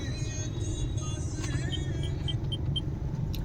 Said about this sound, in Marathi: ट्रॅफिक खूपच आहे.